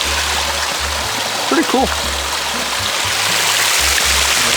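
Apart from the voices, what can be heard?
stream of flowing water at a nature preserve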